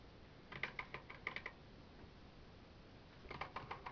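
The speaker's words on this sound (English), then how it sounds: "type in your line number" Keys clacking on an Amstrad PCW computer keyboard in two short bursts of quick typing separated by a pause, close and fairly quiet with no talking.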